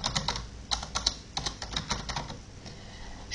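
Someone types a project name on a computer keyboard, a quick run of close, crisp key clicks in short bursts with brief pauses between them.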